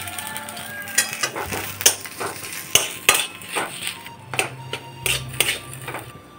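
Potato filling with green chillies and kasuri methi is stirred in a pan for a stuffed ridge gourd dish, a spoon scraping and knocking against the metal in uneven strokes over a faint sizzle.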